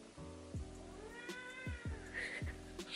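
A pet cat meows in a home, a long drawn-out wail followed by several shorter meows, close and clear, with some low background noise.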